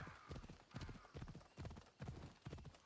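Horse hooves clip-clopping in the video game Assassin's Creed Odyssey, a steady rhythmic trot of about six even beats, close and moderately loud, with a short burst of other game sound at the very end.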